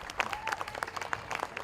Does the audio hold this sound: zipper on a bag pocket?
no